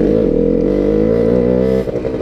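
A motorcycle engine drones loudly and steadily at high revs, close by, then drops off near the end with some rattling.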